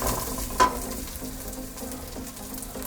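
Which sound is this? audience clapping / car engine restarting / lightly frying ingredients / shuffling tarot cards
lightly frying ingredients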